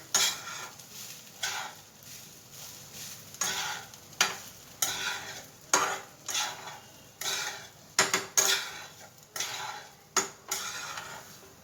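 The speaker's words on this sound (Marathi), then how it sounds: "एकत्र करून घ्यायचे आहे, पूर्ण मिक्स करून घ्यायचे आहे।" A spoon scrapes and stirs rice with turmeric in a pan for fried rice, with repeated rhythmic strokes about once a second against the metal over a faint sizzle, close and clear.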